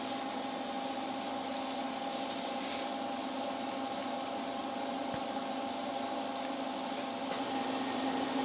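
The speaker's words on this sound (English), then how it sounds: "we're going to put it in the ultrasonic cleaner" A jewellery ultrasonic cleaner runs with a steady mechanical hum, a fixed tonal drone and faint buzzing vibration, continuously, with no voices.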